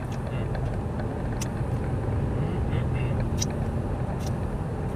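Car interior while driving on a road, a steady low rumble of engine and road noise with faint ticks and rustles throughout, no voice breaking in.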